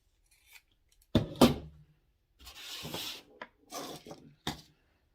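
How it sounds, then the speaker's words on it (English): Scissors cutting a fabric circle from cloth, a handful of close crisp snips and rustling cuts in short irregular bursts with quiet gaps between them. "so let's start by cutting out our circle"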